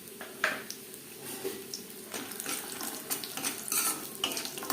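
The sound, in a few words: frying bori (lentil dumplings) in a pan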